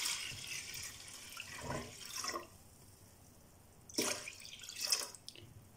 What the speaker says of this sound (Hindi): पानी डाल लेते हैं।